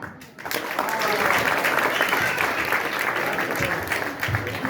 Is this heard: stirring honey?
no